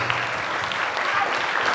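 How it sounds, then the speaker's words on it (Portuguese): Audience applause for students at a TEDx-style school talk: a dense, steady wash of many hands clapping at even loudness for the whole short stretch, with no voices over it. "Uma salva de palmas para eles que foram exemplares."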